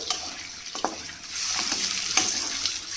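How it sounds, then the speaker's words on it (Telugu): Boiled eggs fry lightly in a pan with a steady sizzle, broken by a few clicks and taps as they are turned, close up with no talking. "లైట్గా ఫ్రై అయితే చాలు."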